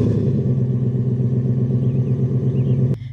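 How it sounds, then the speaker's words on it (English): A 2020 Ford F-150 lifted 4WD truck with a performance exhaust upgrade idles with a steady, loud, throaty rumble, then cuts off abruptly near the end. "one of the favorite features about this truck is the performance exhaust upgrade"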